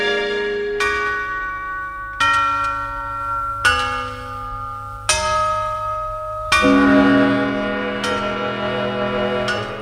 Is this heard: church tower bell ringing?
yes